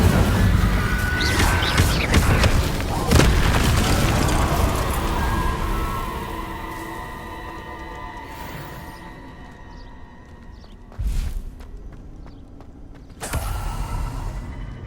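A spell cast in Hogwarts Legacy lets out a whooshing magical burst and crash at the start, fading into a low mechanical rumble, followed by two sharper impacts later on.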